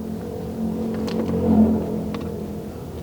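A car on the road, heard from inside while someone drives it, gives a low steady engine rumble that swells slightly midway and then settles back.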